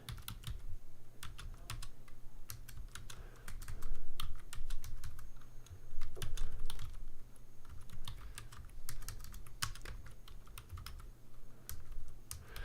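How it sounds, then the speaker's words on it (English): Rapid typing on a computer keyboard, a steady run of close, crisp key clicks with brief pauses and a low background hum. "I can't type."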